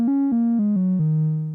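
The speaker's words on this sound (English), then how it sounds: "I'm just using a simple triangle wave on the synth itself," Korg MS-10 synthesizer playing a simple triangle wave: a clean, steady tone stepping down through five sustained notes, each with a soft attack, heard alone and close.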